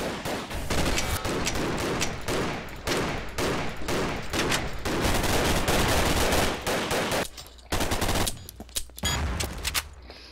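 Rapid video game gunfire in Double Action Boogaloo, loud close bursts of automatic shots in quick succession with a short pause before the shooting starts again.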